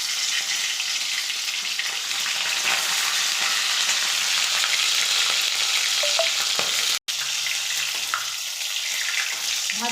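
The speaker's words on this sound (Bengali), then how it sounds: "ভাজা হয়ে যাচ্ছে, আর একটু ভালোভাবে নেড়ে নিই।" Turmeric-coated hilsa fish heads fry in hot oil, a loud, steady crackling sizzle with occasional stirring, briefly cut off midway before the frying resumes.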